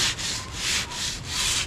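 Steady back-and-forth strokes of sandpaper rubbing a surface to strip old finish before painting during a motorcycle restoration, close and loud in rhythmic passes with no talk.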